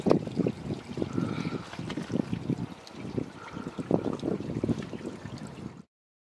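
Water from a drinking fountain at Machu Picchu trickles and splashes steadily in uneven bursts, fairly close, with faint background murmur and no clear speech, ending abruptly.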